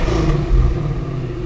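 A Whipple-supercharged 2019 Ford Mustang 5.0 idles with its active exhaust in quiet mode, a subdued, steady low rumble that stays close and even for a brief moment, with no voices.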